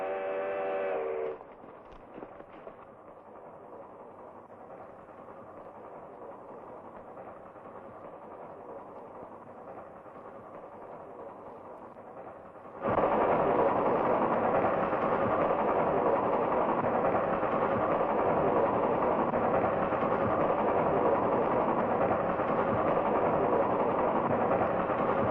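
Steam-era train engine in a 1955 action film, a low steady rumble that jumps abruptly to a louder, fuller roar partway through, heard alone without speech.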